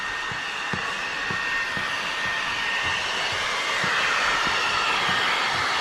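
A heat gun shrinking ceramic window tint film on a 2022 Dodge Ram: a loud, steady blowing roar held throughout, close up, with faint repeated low taps beneath it and no talk.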